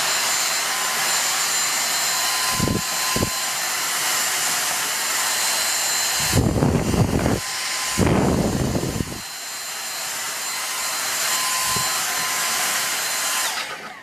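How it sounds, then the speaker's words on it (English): A small Dyson handheld vacuum sucks up toast crumbs in a kitchen, giving a steady, close motor whine with a few short knocks and two louder, rougher surges in the middle. "So we'll get the little Dyson out."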